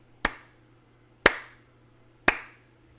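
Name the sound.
hand claps for camera audio sync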